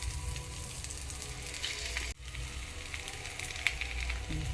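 A methi-bajri bhakhri cooks on a hot oiled pan with a continuous close sizzle and crackle, briefly dipping midway before resuming at an even level, with a faint stir or scrape near the end.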